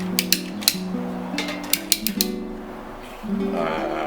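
A quarter-inch double pin is cut for repairing patio umbrella ribs, giving a close series of sharp metallic clicks and ratcheting crunches with grinding, creaking tones, ending in a rougher scraping sound.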